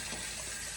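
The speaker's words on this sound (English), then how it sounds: "we're filling up our container" Cool tap water pours steadily into a container for soaking traps in an acid bath, a broad, constant rushing hiss with no talk over it.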